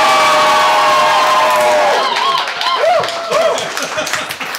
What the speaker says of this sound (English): I want to hear what your applause sounds like,